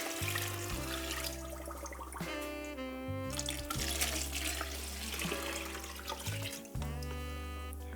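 Warm water is poured into a container of sliced rhubarb, sugar and white vinegar for rhubarb champagne, a close, continuous splashing gurgle whose pitch shifts as the vessel fills, with no talk.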